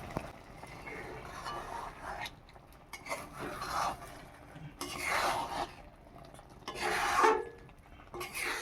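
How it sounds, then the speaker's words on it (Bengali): A spatula scrapes and stirs lentils and bitter gourd in a pan, giving quiet, rough rasping strokes that come in uneven bursts, with the strongest scrapes near the end. "খুন্তি দিয়ে নেড়ে দেবো।"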